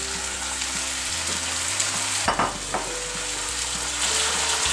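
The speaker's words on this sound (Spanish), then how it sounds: "Ahora le vamos a agregar los tomates" Tomatoes and chicken frying together in a pan for a spiced stew, a steady close sizzle with faint stirring scrapes partway through.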